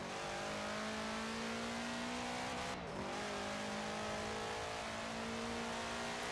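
Car engine revving steadily at high pitch in the racing game Forza Horizon 4, a rasping continuous drone with a brief dip near the middle before resuming, loud and close with no talk.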